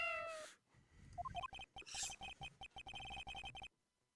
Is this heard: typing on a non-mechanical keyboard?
no